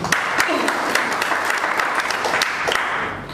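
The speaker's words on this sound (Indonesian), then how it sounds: "Kita beri tepuk tangan." A congregation claps together during a church sermon, producing a full, loud burst of applause that carries on steadily for a few seconds.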